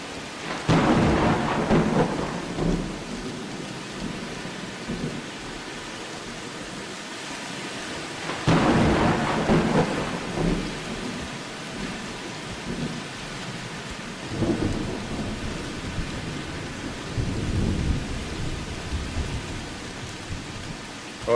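Heavy rain pours steadily in the game Vein while thunder rolls in several long, booming swells, loud and close, with no one speaking.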